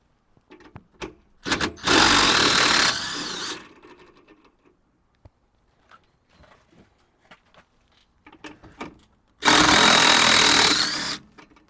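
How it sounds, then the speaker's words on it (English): Two loud, sustained bursts of a power tool (impact driver or drill) spinning off the top shock bolts on a Mustang GT, each lasting about a second or more, separated by quieter clinks and handling noises of work on the car. "So the first thing you're going to want to do is remove the bolts on the top of the shocks."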